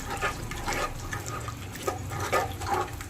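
Tamarind water poured into a pan of prawn kuzhambu, a continuous soft splashing, gurgling pour at close range with no voices.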